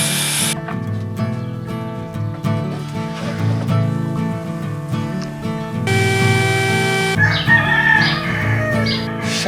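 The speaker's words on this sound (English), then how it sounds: "Shut the heck up, you stinking roosters." Roosters crow loudly and repeatedly in long drawn-out calls near a shack workshop, close by and overlapping, with no talking over them.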